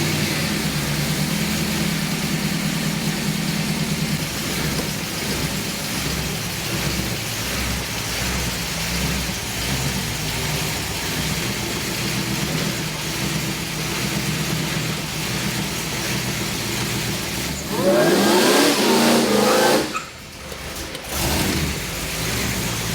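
A boosted Holden Kingswood drives at a steady rumble with its engine heard from nearby. Near the end it revs hard in a loud surge, cuts out sharply, then picks up again.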